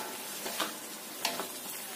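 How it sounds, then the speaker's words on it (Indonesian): A spatula scrapes and stirs food in a sizzling pan, with a few soft clinks over a constant frying hiss. "Kita aduk-aduk seperti ini ya,"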